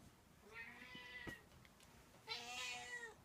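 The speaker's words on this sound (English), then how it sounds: "Cat." A cat meows twice, two drawn-out, clear calls a little over a second apart, close and alone in a quiet workshop.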